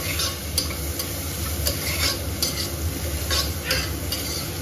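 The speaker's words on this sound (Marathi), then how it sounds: "सगळे व्हेजिटेबल्स टाकून असं थोडंसं तुपामध्ये परतून घेऊ व्हेजिटेबल्स पण" Mixed vegetables being sautéed and stirred in ghee for a toddler's vegetable khichdi, with a steady close sizzle and repeated scraping stirs of a spoon against the pan, no talk.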